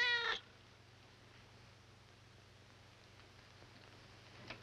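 A cat gives a single short, high meow right at the start, close and clear, followed by quiet room hum.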